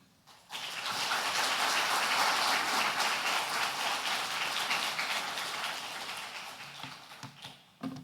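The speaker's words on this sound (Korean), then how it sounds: "여러분 함께 나오실 때 큰 박수로 축복하겠습니다" Loud congregation applause erupts at a church afternoon praise service as a visiting missionary from Madagascar comes forward, a dense sustained wash that swells, then tapers off with a few scattered claps.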